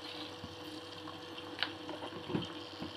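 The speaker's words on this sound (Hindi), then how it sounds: "इतना रवा है उससे डबल पानी डाल लेना" Water is poured into a cooking pan for semolina upma, a steady low pouring and bubbling wash heard up close with small splashes and no talk.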